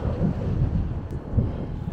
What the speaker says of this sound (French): si on m'entend avec le vent